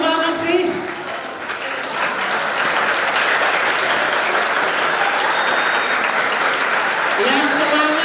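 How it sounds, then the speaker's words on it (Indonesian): A hall of students at an Islamic boarding school in Balikpapan applauds its senior classmates with loud, continuous clapping. A voice speaks over it at the start and again near the end. "kita berikan tepuk tangan buat kakak-kakak kita semuanya"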